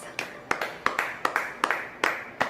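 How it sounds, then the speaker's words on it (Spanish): Sparse, distinct hand claps from a church congregation offering praise to the Lord, about nine sharp claps in an uneven rhythm, close and fairly loud with no talk. "Vamos a dar una ofrenda de palmas al Señor en señal de nuestro agradecimiento"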